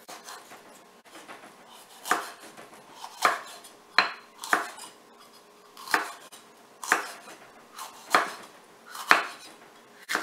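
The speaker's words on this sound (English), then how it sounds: "So I like to cut them a little thinner." A knife chops food on a cutting board in a steady rhythm of about a dozen crisp, close knocks, each one sharp and distinct, with no voices.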